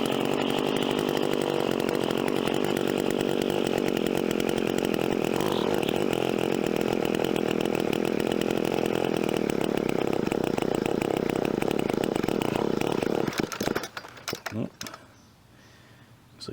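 A 1988 WeedEater GTI 15 string trimmer engine runs at full throttle with a loud, buzzing two-stroke whine, held steady for about thirteen seconds before cutting out and sputtering to a stop, followed by faint sounds.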